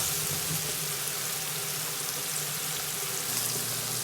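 Chicken is stir-fried in a pan, giving a steady, dense, close sizzle with no break and no voices.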